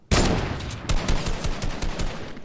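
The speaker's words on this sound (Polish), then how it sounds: "moje strzały z tej snajperki dzisiaj nie są najlepsze, niestety" Sniper rifle shots in the Fortnite video game: a loud, sharp blast opens the clip, followed by further rapid cracking bursts that keep the sound dense and loud throughout.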